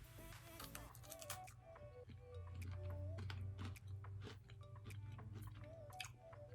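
Close, crunchy chewing of a cracker coated in toffee and half-dipped in chocolate, with repeated bites and mastication sounds over a steady low background hum.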